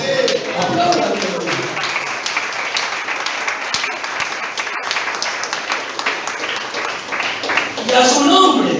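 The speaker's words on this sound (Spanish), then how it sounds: "Aplaudan." A church congregation claps at the preacher's call, loud continuous clapping with a voice heard at the start and end.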